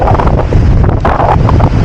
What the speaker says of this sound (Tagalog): Dahil sobrang lakas talaga ng alon.